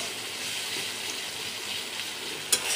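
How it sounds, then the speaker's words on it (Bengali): Onions and green chillies frying in a pan, a steady, close hiss of sizzling oil with one sharp clink near the end. "ভাজি করার জন্য এখন এখানে ভালো করে বেশি করে পেঁয়াজ আর কাঁচামরিচ দিয়ে দিচ্ছি"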